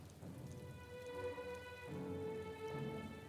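Soft rain falls in the video game Metaphor: ReFantazio, a faint, steady patter running under sustained background music tones, with no talking.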